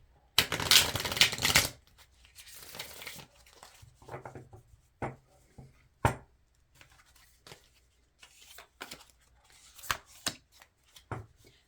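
A deck of tarot-style cards that sticks during shuffling is riffled in a loud burst, then handled with softer shuffling, followed by scattered sharp taps and clicks of cards being squared and laid down.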